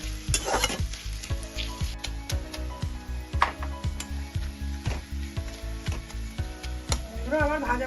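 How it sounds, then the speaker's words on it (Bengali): Chopped green chillies frying in a pan make a continuous sizzle, broken by regular, rhythmic stirring scrapes of the spatula against the pan. The sound is up close, with no voices. "এবারে এটাকে আমাকে লাল করে ভেজে নেব"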